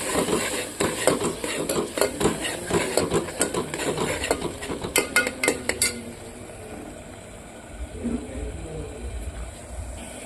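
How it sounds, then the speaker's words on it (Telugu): Spoon scraping and clinking in a pot while chili powder is mixed into a ridge gourd and moong dal curry, close rhythmic stirring strokes that fade into quieter cooking sounds. "కారం వేసి బాగా కలబెట్టాలి"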